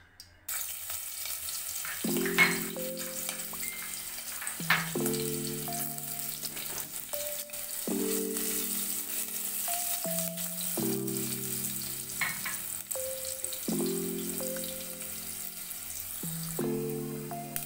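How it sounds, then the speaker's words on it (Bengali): Ginger and green chili fry in oil with a continuous hissing sizzle throughout, close and steady, under a recurring melodic background music line, with no talking. "এরপর আমি ভেজে নেব আদা, কাঁচা লঙ্কা।"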